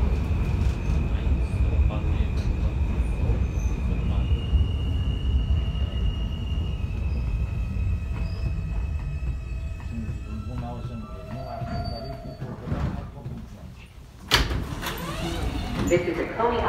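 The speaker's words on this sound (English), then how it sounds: "This is a Coney Island Stillwell Avenue F local train." R160 New York subway car on the Coney Island-bound F local, running between stations with no air conditioning: steady loud rumble and rail roar with squealing tones, a brief dip and a sharp clatter near the end.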